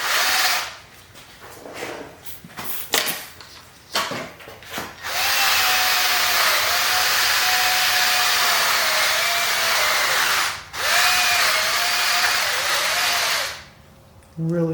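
A power tool fitted with a rough Scotch-Brite pad whirs against a Subaru BRZ engine during cleaning, starting with short bursts and then running in long steady stretches with a high whine that wavers in pitch, briefly stopping once before dying away.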